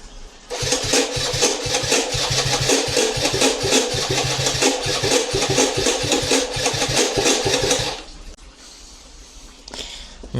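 An old carbureted scooter's electric starter cranks steadily in a rapid, loud whirring rhythm for several seconds, then cuts off, leaving quieter background noise.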